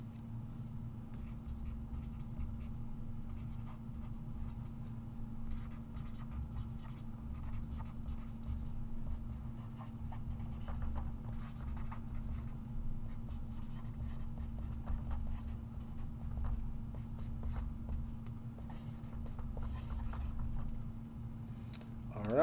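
A Sharpie marker squeaks and scratches across a card in steady, close strokes, set over a constant low hum.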